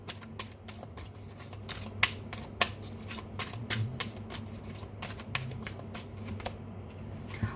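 Tarot cards being shuffled and drawn during a reading, a steady run of crisp riffling snaps and flicks close up, fairly quiet, with no talking over them.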